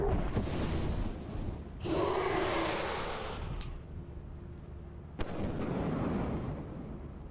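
Sniper rifle gunfire in a shooter video game: loud sustained blasts and bursts, a sharp crack near the middle and another near the end, booming and close.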